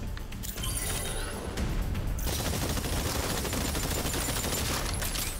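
Rapid gunfire rattles nonstop at distant targets in Exoprimal, loud and dense automatic bursts layered with impact crackles and shattering hits.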